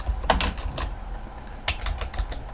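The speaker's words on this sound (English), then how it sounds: "oops, sorry, I'm typing in it." Keys clatter on a computer keyboard in two quick bursts of close, crisp clicks separated by a brief pause, with no talking.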